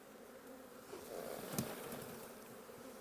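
Honeybees buzz in a dense, steady drone as a hive frame is shaken off, with a brief soft thump partway through.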